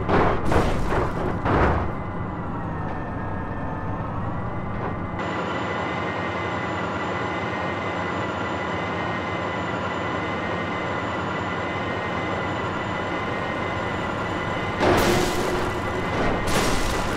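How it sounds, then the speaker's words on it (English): A train rolls past in the BeamNG.drive driving game: a loud, steady rumble and clatter of rail cars lasting several seconds, framed by heavier bursts of noise at the start and end, with no voices. "Oh my god, train!"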